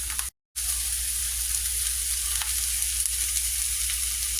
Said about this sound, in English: Okay, so my veggies are cooking.